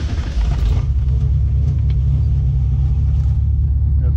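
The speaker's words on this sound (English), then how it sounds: "I'll go ahead and turn the car on" A car fitted with Megasquirt engine management starts and settles into a steady, loud, close idle with a deep continuous rumble.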